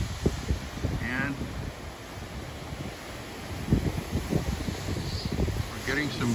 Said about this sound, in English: we're getting some gusts like that, but not too bad yet.